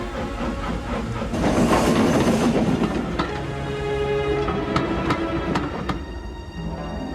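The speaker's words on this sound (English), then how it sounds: "Meanwhile, James puffed along his route." Animated steam engine chuffing along the rails with a loud hissing rush, rhythmic mechanical clatter and metallic ringing tones, close and busy without voices.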